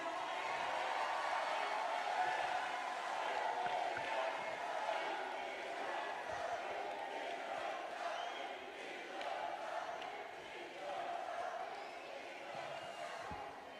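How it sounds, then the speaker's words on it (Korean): A crowd at a Korean political party rally greets a candidate's speech with a sustained, distant roar of cheering and applause, steady and dense throughout with no clear individual claps. "여러분 박수와 함성으로 맞아주십시오"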